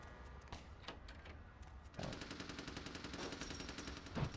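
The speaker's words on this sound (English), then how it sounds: "Yeah! Use that gun!" Gunfire from the video game Vampire: The Masquerade - Bloodlines, a faint spaced crackle of shots turning into a rapid, steady rattle of automatic fire, fairly quiet throughout.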